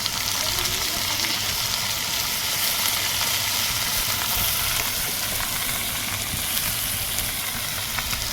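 Potatoes fry in a pan for a plantain-flower and prawn dish, a dense continuous sizzle with occasional scraping as they are turned over, loud and close with no talking.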